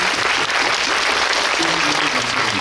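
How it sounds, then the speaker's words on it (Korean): Audience applause at a film screening talk event, a dense, loud, continuous wash of clapping from a large crowd with faint voices mixed in. "박수 부탁드릴게요."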